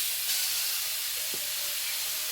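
Grated carrot fries in a spoonful of ghee in a kadai, giving a continuous soft sizzling hiss with no talk.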